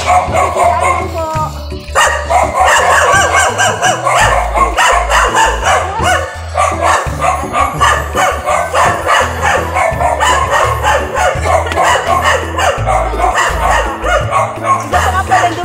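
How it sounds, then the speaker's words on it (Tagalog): Several dogs bark near a riverside in Naga City, Camarines Sur, with loud repeated yips and woofs mixed with outdoor bustle and people talking throughout. "Ay, yung mga aso."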